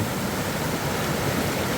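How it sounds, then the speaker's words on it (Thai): Water flowing down from a mountain in Russia, a close, constant rushing hiss of a stream with no break or voices. "น้ำไหลมาจากดอยนะครับ"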